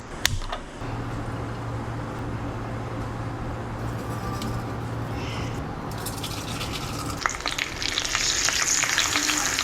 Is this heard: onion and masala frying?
yes